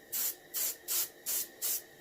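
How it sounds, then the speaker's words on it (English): Five short, even bursts of airbrush or spray gun hiss, each about a third of a second with brief gaps between, close and clear, as paint is sprayed onto the fins of a reproduction warmouth fish. "just angle spray them real good"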